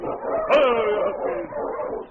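Sled dogs of a dog team barking and yipping, a radio-drama effect set at a trading post near Dawson City, heard as a couple of close, high whining yelps over about two seconds.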